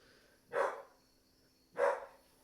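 Two separate dog barks ring out about a second apart, each a single distinct woof at moderate distance, with a quiet background hum in between and no talking.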